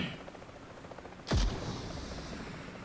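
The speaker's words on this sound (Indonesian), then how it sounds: "Tadi ada yang nembak arah sini loh." A single sharp gunshot cracks out in PUBG Mobile, loud and close with a booming low-end thump, standing out against a quiet background hum before fading into a brief tail.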